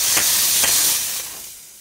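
A domestic steam cleaner giving off a loud continuous dry hiss close by, with a few soft pulses, trailing off quieter at the end.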